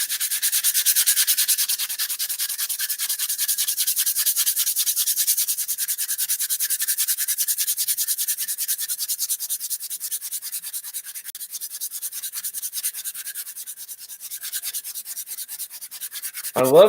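A briar pipe is sanded by hand in rapid, steady back-and-forth rubbing strokes, loud and close, continuing unbroken for about seventeen seconds and easing slightly toward the end before a brief thump.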